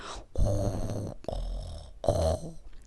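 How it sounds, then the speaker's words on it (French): Deep, rumbling elephant snores in three long drawn-out breaths, loud and close, each with a rattling, buzzing texture. "Mais l'animal ronfle plus que jamais."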